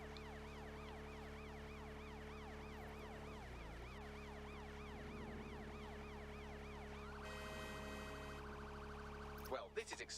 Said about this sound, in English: My boat has sirens.